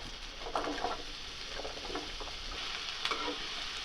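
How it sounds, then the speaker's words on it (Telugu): Radish pieces fry in a spoonful of oil in a pan, a soft continuous sizzle with light stirring scrapes and taps throughout. "మనం ముక్కలుగా కట్ చేసుకుని ఆ ముల్లంగిని అందులో వేసి వేయించుకోవాలి దోరగా"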